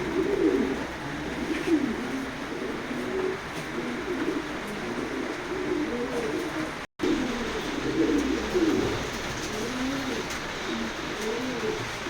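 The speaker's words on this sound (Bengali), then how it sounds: "দুইটাই খুবই সুন্দর কবুতর" Racing pigeons coo steadily inside a loft, their low, rolling calls repeating close by and continuously, over a faint constant background hum.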